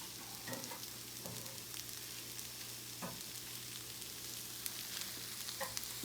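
Cheese for Philly cheesesteak sandwiches sizzles steadily in a pan as it is folded over and starts sticking to the bottom, with a hum underneath and occasional scraping clicks from the spatula.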